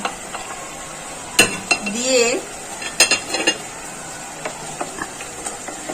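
Fried small fish are stirred into a simmering potato curry: sharp metal-spoon clinks and scrapes against the pot over a faint sizzle, with a brief spoken word partway through.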